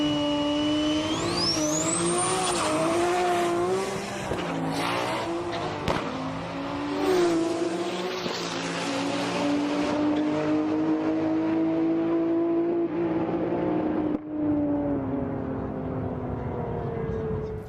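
A loud turbocharged Toyota Supra drag racing car engine roars steadily at a Japanese drag strip, its pitch rising and falling with revs, close up and continuous throughout with some background noise.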